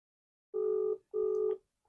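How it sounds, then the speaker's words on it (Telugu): A phone rings on an outgoing call as the caller waits for an answer. Two ringback tones, each under half a second long, sound steadily with a short gap between them against silence. "ఫోన్ అయితే రింగ్ అవుతోంది."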